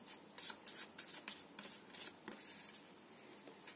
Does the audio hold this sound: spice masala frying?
no